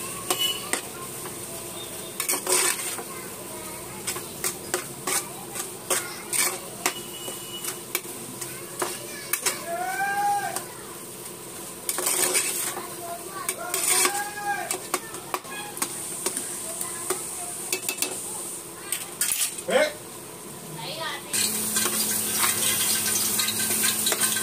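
Spices with turmeric, chili, salt and coriander powder being stirred and fried in a pan for egg mughlai, with a steady sizzle, scraping spoon clinks and pan knocks throughout, louder frying toward the end.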